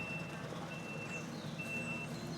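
A truck idles while its reversing alarm beeps steadily in a regular repeating tone, moderately distant and fairly quiet over a low engine rumble. The truck is being loaded with a large travel crate holding a monkey.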